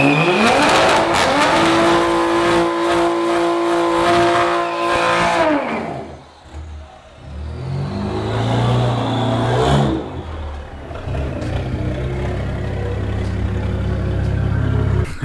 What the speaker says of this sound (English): I always wanted to do a burnout in my own garage.